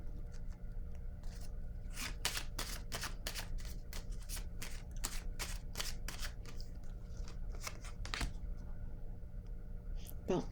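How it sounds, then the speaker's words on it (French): Tarot cards are shuffled, handled and laid down on a table, a rapid series of crisp close riffling flicks and slaps, with a steady low hum underneath. "Je vais déposer une carte sur elle."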